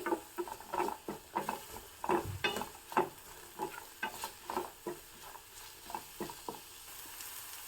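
Finely chopped cabbage fries in oil and butter, giving a low sizzle broken by a rhythmic series of close scraping stirs and taps, repeated regularly and alone.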